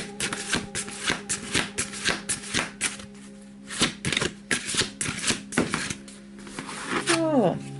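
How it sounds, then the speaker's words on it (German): Large playing cards used for a Skat card reading are shuffled by hand in quick, crisp, rhythmic bursts close to the microphone, with a voice speaking briefly alongside. "Dann gestaltet sich das Mischen manchmal nicht gar nicht so gerade einfach."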